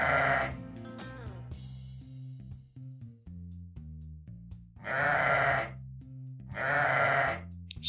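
A sheep gives three loud, wavering bleats over a soft, plinking background melody, one at the start and two close together near the end.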